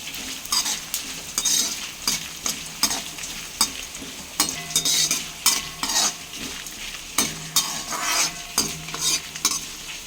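A spoonful of coriander seeds fries and is stirred in a pan for a beetroot chutney, with repeated scraping strokes of the spoon over a continuous dry sizzle, heard close and alone.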